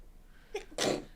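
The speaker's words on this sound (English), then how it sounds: "Sorry, I had to sneeze." A single sharp sneeze sounds close up in a quiet room, a short intake burst followed by a loud explosive release, with no talking.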